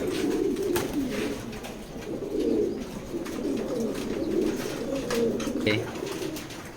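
A blue pied female racing pigeon at a loft coos steadily, a low, continuous rolling murmur with a few faint sharper sounds mixed in, close and unbroken throughout.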